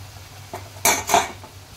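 A spoon scrapes and clanks against a pot while pointed gourd curry with spices is stirred, a few sharp metallic knocks close up and no voices.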